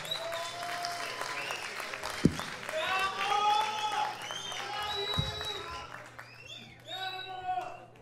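A comedy show audience applauds for a guest on stage, clapping rising and swelling over several seconds while voices and cheers carry over it, with a couple of sharp thumps and a louder burst of chatter toward the end.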